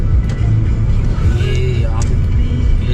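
A car turning on a road in Thailand gives a steady, close engine and road rumble, with someone speaking over it.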